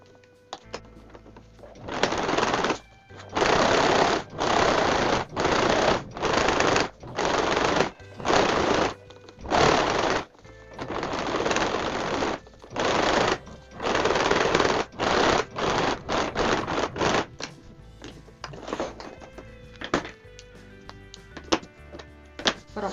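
A sewing machine stitching a fabric glasses holder runs in a dozen or so close, loud bursts of rapid stitching separated by short pauses, then slows into shorter, patchier runs toward the end.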